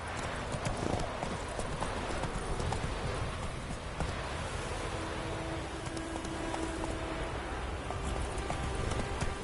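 Roach, the horse in The Witcher 3, gallops with rapid, steady hoofbeats that run throughout, close and fairly loud over a busy wash of outdoor game ambience.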